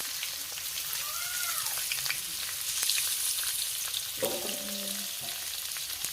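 Grated onion hitting hot oil in a pan, giving a steady broadband sizzle and crackle that holds throughout, with a few brief stirring clinks and a short scraping sound near the end; no talking.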